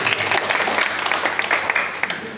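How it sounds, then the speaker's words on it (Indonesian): A church congregation at a Sunday service in Timika claps together, a moderately loud burst of scattered hand claps that thins slightly toward the end. "Berikan tepuk tangan bagi Tuhan."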